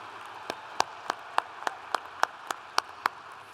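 Scattered applause at a university commencement ceremony honoring staff: a few hands clapping in a slow, steady rhythm, about ten distinct claps roughly a third of a second apart, fairly faint with a quiet hall behind them.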